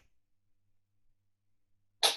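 A single sharp sneeze bursts out at the end after near silence, loud and close, during an indoor stretching and mobility session.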